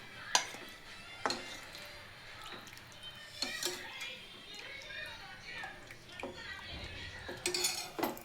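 Mutton leg soup, a green-coloured broth with tender meat pieces, served into a bowl in a home kitchen: several sharp clinks of ladle and utensils against pots and dishes, scattered irregularly amid light handling noise.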